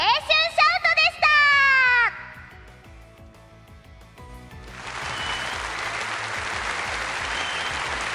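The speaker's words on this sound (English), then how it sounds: "The Kazumi Festival and Youth Shout-Off came to a grand finale amid excited cheers and applause from the entire audience." Crowd cheering and applause at the finale of a school festival's youth shout-off, a dense, loud wash of clapping and excited voices that swells in after bright high tones and lingering echoes.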